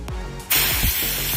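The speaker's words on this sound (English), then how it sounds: "if I squeeze this handle, the amount of air that's spraying out" Compressed air bursts out of a portable air compressor's hose handle: a faint hiss, then a sudden loud, steady spray that holds strong to the end, with no voices.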